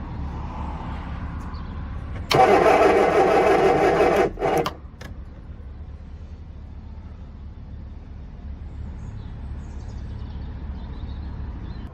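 An MG Midget 1330 Sprint engine in a racecar build cranks on the starter without firing: one loud, steady churning burst of about two seconds, then a brief stutter, then quiet.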